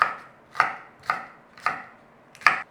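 A knife chops vegetables on a board with five crisp, evenly spaced thuds about half a second apart, close and clear against near silence.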